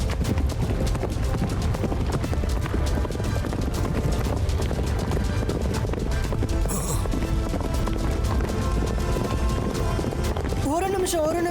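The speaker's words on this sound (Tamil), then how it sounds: "இந்த குதிரைங்க எங்க இருந்து வந்துச்சு?" Horses galloping with a rapid clip-clop of hooves in a Tamil animated story about a centaur magician, loud and continuous under a dense mix of music and effects, with a brief rising whinny-like tone near the end.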